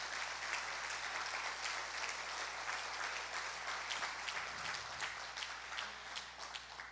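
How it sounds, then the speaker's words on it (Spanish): A church congregation applauds through a Spanish-language family service, a steady dense wash of many hands clapping at moderate volume, continuing without pause and without any voices over it. "Dale un fuerte aplauso al Señor."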